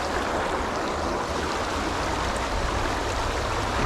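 A stream running high rushes and roars steadily, loud and close, as dense continuous water noise with no talk over it.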